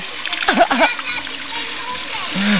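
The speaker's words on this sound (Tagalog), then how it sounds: "Nangalat ang tubig." Water splashes and sloshes loudly as a child sits down in it, a burst of close splattering followed by lighter trickling, with children's voices speaking over it.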